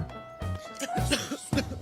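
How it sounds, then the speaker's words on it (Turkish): Coughing from a person in a home, a few short harsh bursts close by, mixed with some muffled voice sounds. "Öksürüyor yani."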